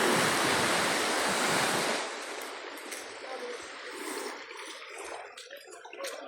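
Sea waves off the Caramoan islands break loudly close by, a roaring rush of surf that drops back after two seconds to a softer wash of water and wind.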